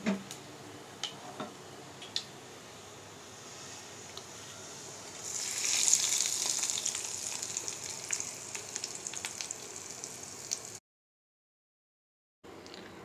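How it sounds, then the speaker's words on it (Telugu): Hot tempering of spices in oil crackles and sizzles, with sharp popping ticks growing into a louder hiss as it is poured into nalleru chutney, close and alone, then a brief silence before faint sizzling resumes. "ఈ పోపుని మనం చట్నీలో వేసుకుందాం"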